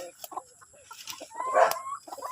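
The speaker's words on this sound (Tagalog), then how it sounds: "pasok tayo dito sa manukan natin" Chickens cluck and chatter nearby inside a coop in short irregular bursts, with one louder drawn-out squawk in the middle.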